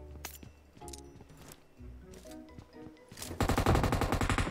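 Gunfire in the battle game PUBG crackles through the mix: scattered single shots and clicks early on, then a dense, loud burst of rapid fire near the end, with no talking.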